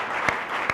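Brief, loud applause rises from a church congregation at a Sunday service, a dense clapping wash with two sharper rhythmic claps standing out.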